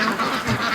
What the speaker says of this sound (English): So the ducks are home.